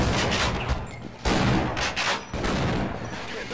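Gunfire from Half-Life: Blue Shift, loud, dense bursts that cut in abruptly near the middle and again later, blending into a continuous barrage with a voice faintly underneath.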